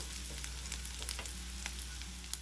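Onion and spice masala sizzling and frying in a pan for an onion curry, a steady bed of crackle with light scraping as it is stirred, close and continuous.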